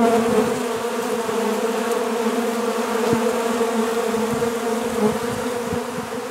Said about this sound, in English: the bees are still in the air, but they're coming back to the front